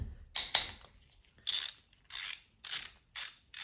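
A ratchet with a 10 mm socket clicks in short repeated bursts while loosening a bolt on a JDM K20A Type R engine's timing chain cover, each stroke a rapid pawl chatter close by.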